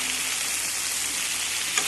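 Egg and potato frying together in oil with spice paste: a close, steady sizzle throughout, ending with a couple of faint clinks.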